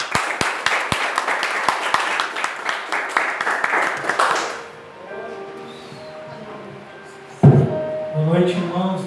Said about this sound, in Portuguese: Dá uma força de palmas.